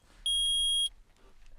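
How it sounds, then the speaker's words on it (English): A loud, steady electronic buzzer tone sounds once in the Phoenix Wright: Ace Attorney video game, holding for about half a second before cutting off sharply, with faint background noise afterward. "That's the shot clock. Buzzer beater"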